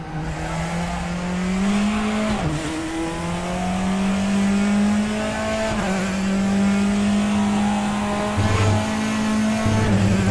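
A Praga race car laps the Bathurst mountain circuit in the RaceRoom racing game, its engine droning loud and continuous, rising in pitch and dropping sharply at gear shifts, with no voices.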